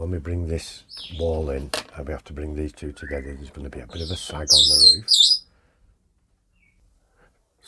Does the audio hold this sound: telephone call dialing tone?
no